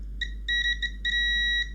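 A multimeter tests an Xbox One model 1540 board for a short and gives several short, sharp beeps in quick succession, then one longer continuous tone, close and clear over a low steady hum.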